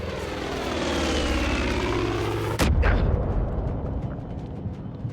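In Far Cry 5 an attacking propeller plane roars overhead, loud and droning, then a heavy explosion hits and leaves a rumbling, crackling aftermath.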